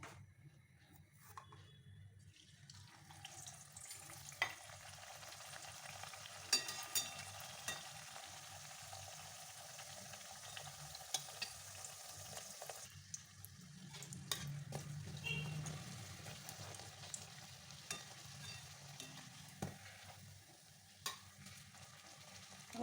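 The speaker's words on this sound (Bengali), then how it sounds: "আমি কচুরিগুলো বেলে নিয়েছি অর্ধেক এবার ভেজে নেবো" Pea-stuffed kachori frying in oil in a pan, a faint, steady bubbling sizzle with scattered small crackles and occasional clicks, quiet and continuous with no voices.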